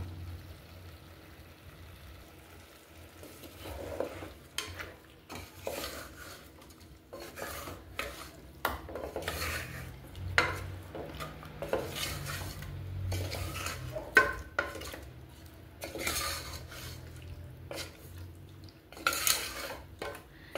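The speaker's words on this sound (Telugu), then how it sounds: "ఇలా ఫ్రై చేసుకుంటే చికెన్లోని రా స్మెల్ అంతా వెళ్ళిపోతుందండి." Chicken frying on low heat in a pan for chicken vegetable soup, heard as quiet irregular scrapes and metallic clinks of a utensil stirring, with a faint low sizzle underneath.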